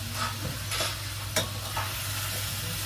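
Meat stirred in a sizzling pan, several distinct scraping strokes over a constant close frying sizzle and a low hum.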